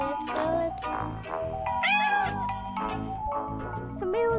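Cartoon cat in Toca Life World meowing repeatedly, high bright mews and a drawn-out wail over background game music with jingly tones.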